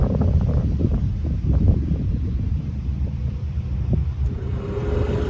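Strong wind sweeps across a golf course, buffeting the microphone with a steady low rumble and gusty roar that runs throughout, with no talk over it.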